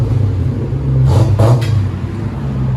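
A Lexus SC 400 with a 4.0L V8, running modified exhaust pipes and a throttle body fault, idles with a steady low rumble and swells briefly in a short rev near the middle before settling back to idle.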